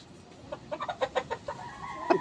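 A chicken clucks in a quick series of short, soft notes close by, ending in a slightly louder squawk.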